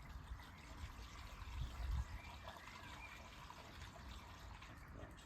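Coolant trickling into a 1955 Ferguson TEF20 tractor radiator, a soft continuous liquid fill with a slight surge near the start, close and fairly quiet.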